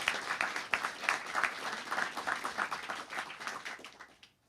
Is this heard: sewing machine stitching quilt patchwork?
no